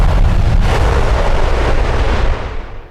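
A loud cartoon bomb explosion bursts at once, a heavy roaring blast that rumbles and slowly fades over a few seconds.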